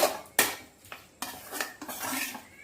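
A spoon scrapes and clinks against a pan in several sharp strokes while chicken is mixed with butter for Andhra chicken, close and clear with little sizzle and no talking.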